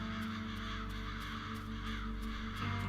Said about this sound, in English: There's a lot of crows going on in here.